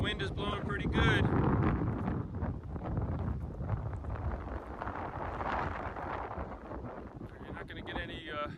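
Wind gusts across the open top of Hoosier Hill, Indiana's high point, roaring and buffeting the microphone throughout while someone talks over it.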